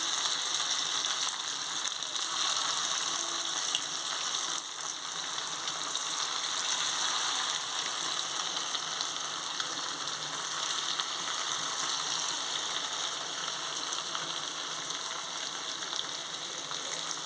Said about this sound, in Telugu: ఇప్పుడు మనం డీప్ ఫ్రై చేస్తున్నాను ఆయిల్ పెట్టుకున్నాను ఒక్కొక్కటిగా వేసుకోవాలి